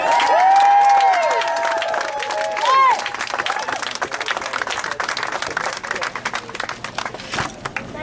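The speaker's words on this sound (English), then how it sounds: "Let's give our clap" Audience clapping at a community gathering about prisoners held at Angola, scattered hand claps rising after a stretch of tonal whistling and voices, with crowd noise and talk running underneath.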